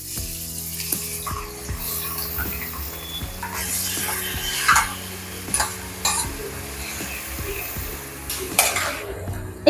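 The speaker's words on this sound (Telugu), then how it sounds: "1/2 kg మటన్ కీమా వేస్తున్నా. కొంచెం మెల్లగా వేయండి, ఆయిల్ వేడిగా ఉంది కదా." Half a kilogram of mutton keema dropped into hot oil with masala: a continuous sizzle and frying hiss with clinking of a utensil against the pan, while a voice talks over it throughout.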